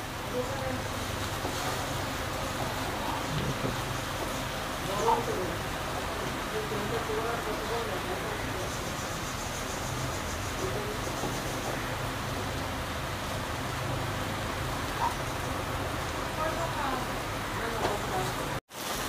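Malabar spinach with salt, sugar and turmeric frying in a pan, giving a steady, even hiss like light rain that runs unbroken for the whole stretch before cutting off abruptly at the end.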